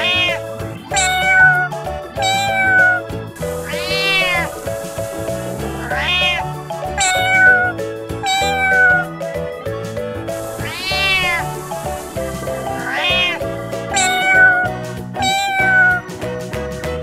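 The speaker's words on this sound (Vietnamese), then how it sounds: "Con mèo." A cat meows repeatedly, loud and close, in a string of wavering, drawn-out cries spaced a second or two apart.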